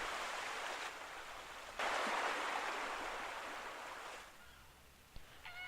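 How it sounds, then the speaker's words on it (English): Ocean surf from the video game Tropico 4 washes in a soft, steady hiss that swells partway through, then fades under faint game tones near the end. "Sometimes there is just the ocean sounds on one side or the other."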